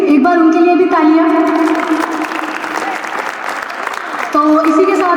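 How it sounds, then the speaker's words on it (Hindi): An audience applauds at a school annual function. The clapping runs steadily under loud sustained musical tones that drop out midway and return near the end. "तो प्लीज़ एक बार उनके लिए भी तालियां।"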